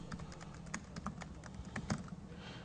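Rapid clicking of a computer keyboard as a page name is typed, an uneven run of light keystrokes close up with no talking.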